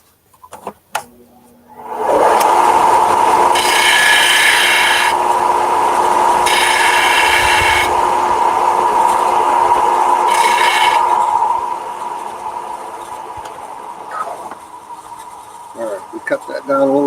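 A hand saw cuts down a wooden piece during repair of a parlor guitar from around 1890, a long continuous rasping with rhythmic brighter strokes, close up, easing off toward the end.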